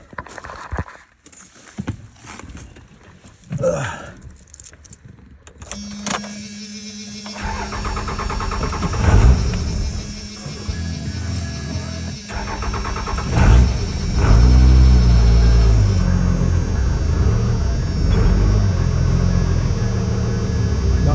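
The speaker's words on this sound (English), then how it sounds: "Idle's always been a little weird with this truck" A 1997 Dodge Ram 2500 with a 5.9 Cummins diesel cranks with a few mechanical clicks, then catches and settles into a loud, close, rough idle that rises briefly before holding steady.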